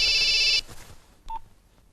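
A telephone rings in a Telugu film scene: a bright electronic ring tone for about half a second, then quiet and a short single beep.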